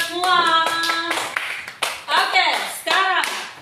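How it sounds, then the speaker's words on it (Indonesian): Schoolchildren clapping their hands together in a classroom, loud irregular bursts of claps mixed with children's voices and shouting. "Tepuk tangan untuk kita semua."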